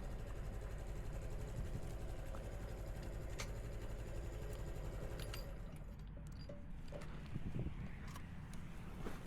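Honda Trail 125 motorcycle idling at a park after pulling over, a faint, steady low engine hum that stays even throughout with a few light ticks and rustles on top.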